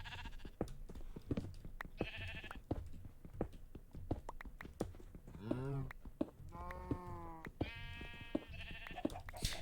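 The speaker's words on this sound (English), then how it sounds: "I kind of keep forgetting about the sheeps and cows in here." Sheep and cows on a game farm, with several short bleats standing out against a busy background of clicks and a voice talking.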